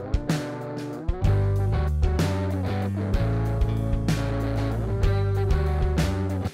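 Recorded guitar track played back in Pro Tools, a continuous sustained part with clear chord changes and sharp attacks recurring about every second, loud and steady with no talk over it.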